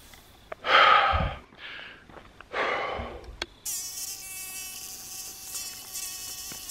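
Mosquitoes buzz outdoors, a thin, high whine that sets in partway through after a few loud breaths and snorts, then holds steady and close to the end.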